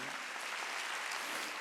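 Church congregation clapping during a Wednesday worship service, an even, quiet wash of applause that fills the short moment.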